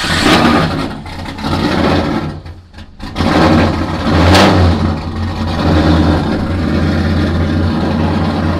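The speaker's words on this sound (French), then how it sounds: "On va démarrer l'auto. Attention les oreilles." A collector drift car's engine starts up and revs loudly, with sharp surges, a brief dip and a burst, then settles into a rough, throaty idle close by.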